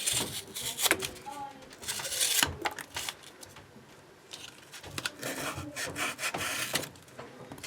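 A Benchmade Grizzly Ridge folding knife with a recurve blade slices through cardboard in several quick, rasping strokes close by, with brief pauses between cuts and a voice talking over parts of it.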